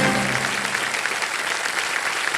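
A studio audience at a quiz show applauds continuously, dense and loud clapping that holds steady from start to finish without pause.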